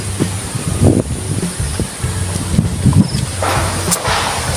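Strong wind gusting outdoors on a farm, buffeting and rumbling across the microphone in uneven bursts, with faint rustling and occasional footsteps.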